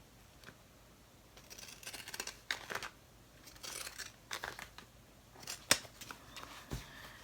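Scissors snipping around paper pennant banner triangles, a series of quiet, close crisp cuts and paper rustles in an otherwise hushed room.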